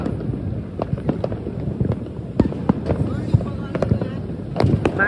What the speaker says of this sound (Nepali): एकदम बबाल पड्काइरहेको छ, हेर्न सक्नुहुनेछ।